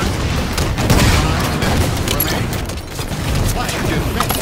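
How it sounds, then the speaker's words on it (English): Heavy gunfire and explosions in Halo 5 multiplayer: dense, continuous bursts of shots and booms with mechanical clatter, loud and close, with voices mixed in. "Taking heavy fire from assault."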